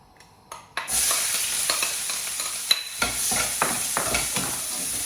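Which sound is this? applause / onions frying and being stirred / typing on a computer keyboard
onions frying and being stirred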